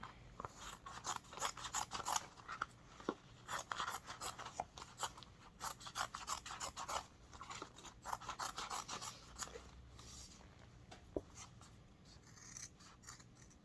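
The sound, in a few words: cutting fabric with regular Fiskars scissors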